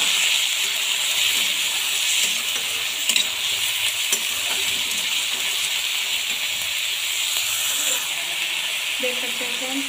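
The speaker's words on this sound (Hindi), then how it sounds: "अब मैं इसे अच्छे से पकाऊंगी ऑनियन को।" Onions frying in oil and being stirred for a dhaba-style egg curry, a loud, steady close-up hiss and sizzle with faint scraping stirs throughout.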